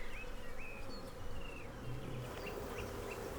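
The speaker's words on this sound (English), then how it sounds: "So there's bees coming up to the entrance." Bees buzzing around the entrance of a hive box, a soft, steady hum with occasional higher whines as individual bees fly close past, alone and fairly quiet.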